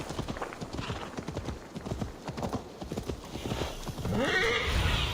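Horse hooves clip-clop steadily through a town in Assassin's Creed Valhalla, a busy continuous patter of hoofbeats near and loud, ending with a brief horse whinny.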